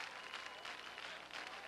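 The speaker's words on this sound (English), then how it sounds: "Crowd clapping it up here behind the Neuqua Valley dugout." A crowd applauding behind the Neuqua Valley dugout at a high school baseball championship game, steady clapping from many hands, faint and distant, with no voices over it.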